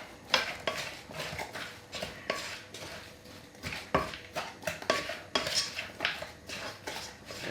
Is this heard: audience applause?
no